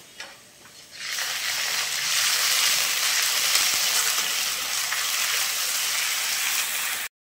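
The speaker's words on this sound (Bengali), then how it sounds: "এবার দিয়ে দিলাম কুচিয়ে নেওয়া পেঁয়াজ। এবার দিয়ে দিলাম আদা রসুন বাটা।" Chopped onion and ginger-garlic paste frying in hot oil in a home kitchen while prawn curry is cooked: a steady, loud, close sizzle that begins abruptly after a quiet second and holds evenly until it cuts off.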